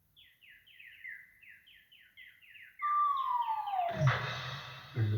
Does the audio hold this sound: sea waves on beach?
no